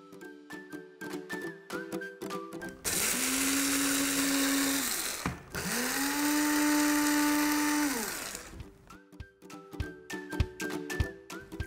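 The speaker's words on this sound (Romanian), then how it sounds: "voi alege să macin fulgii de ovăz și apoi voi macina și migdalele ca să obțin un fel de făină" A kitchen blender grinds oat flakes and almonds into flour in one long loud whirring burst of about five seconds, with a brief dip in the motor pitch midway. Knocks and clatter from the kitchen come before and after.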